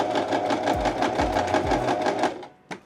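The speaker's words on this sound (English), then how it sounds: "I'm just going to sew this edge of the binding first" A sewing machine stitches along the edge of a seam binding, a fast steady run of needle strokes close up that stops abruptly near the end, with a small thump after.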